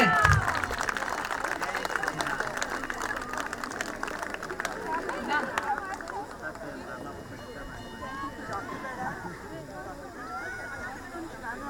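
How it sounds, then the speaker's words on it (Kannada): An audience claps for Rama, a performer arriving late onto a stage, as lively applause fills the first half and then thins to a quieter murmur, with speech heard throughout. "ಬರ್ಲಿ ಜೋರಾದ ಚಪ್ಪಾಳೆ ನಮ್ಮ ರಾಮನಿಗೆ."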